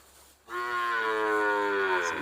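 A single cow at a Thai cattle market gives a loud, drawn-out moo that begins abruptly after a short quiet moment and holds a rich, steady tone to the end, close and with no talk.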